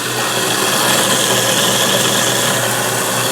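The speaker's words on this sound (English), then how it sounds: "It's just a garbage disposal" A Moen Prep GX50c garbage disposal runs continuously with a steady, loud mechanical whir and grinding hum, unchanging throughout and with no voices.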